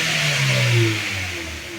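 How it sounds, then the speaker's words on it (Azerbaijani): A car engine in an auto diagnostics workshop is revved again during a diagnostic test, a short steady mid-pitched engine drone that rises slightly and eases off, close by. "2 dəfə qaz verdim."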